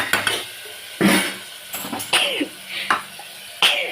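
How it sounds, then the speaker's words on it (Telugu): Tomatoes stirred in a metal pot with a spoon, giving a series of close scraping clinks and knocks, ending with a lid set on top, with light sizzling and no talk. "ఇలా కలపాలి. కలిపి క్యాప్ పెట్టాలి."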